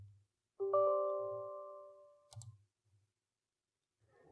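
A computer mouse gives a couple of brief, faint clicks in a quiet room, spaced apart, after a clear ringing tone that fades away.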